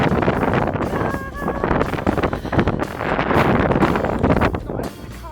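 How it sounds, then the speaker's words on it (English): Strong gusty wind blowing outdoors buffets the microphone in loud, rumbling surges that rise and fall across the clip and ease off at the end. "it's super windy outside"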